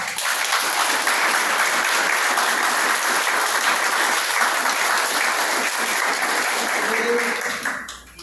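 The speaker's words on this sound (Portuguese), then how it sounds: "Vamos dedicar a Jesus uma grande salva de palmas." A large audience applauds steadily in a hall, a dense, loud wash of clapping that holds evenly before tapering off at the end.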